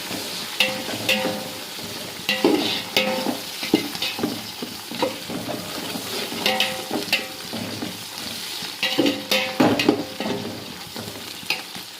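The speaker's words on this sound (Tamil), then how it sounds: "இந்த வெங்காயத்தோடையே சேர்த்து நம்ம நல்லா வதக்கி எடுத்துக்கலாம்" Onions with coriander and mint sauté in a pan for a mutton biryani, a steady close sizzle broken by repeated scraping and stirring strokes of a spatula.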